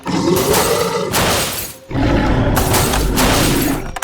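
A Jurassic World T-Rex toy figure plays a loud glass-breaking sound effect with crashing, roaring bursts, two long blasts separated by a brief dip.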